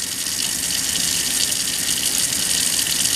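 Lightly soapy water worked over a circuit board in small circular patterns makes a steady, wet swishing that holds at an even level throughout, with no voices.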